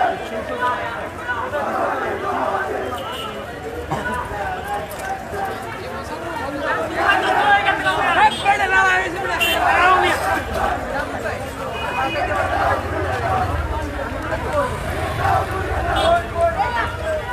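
Protesters shout slogans at Suhrawardy College, a dense crowd of raised voices close by that keeps up a continuous, surging roar of chanting and chatter throughout.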